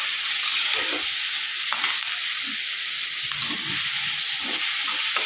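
Curry leaves and drumstick leaves sauté in a pan for murungai keerai thuvaiyal, a loud, dense hiss of frying with occasional soft stirring thumps, close and steady, with no voices.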